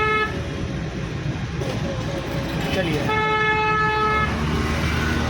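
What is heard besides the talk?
car horn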